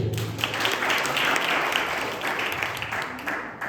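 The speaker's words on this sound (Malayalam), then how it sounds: "കുഞ്ഞിന് നല്ലൊരു കൈയടി കൊടുത്തേ." An audience claps for a child's action-song performance at a kids and youth church fellowship gathering, steady dense applause filling the whole stretch at moderate loudness.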